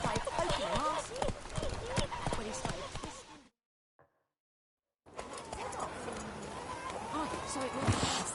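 Rhythmic hooves clopping as the horse Roach gallops in the video game Witcher 3, with birds chirping in the background. The sound cuts to silence for about a second and a half, then the galloping resumes.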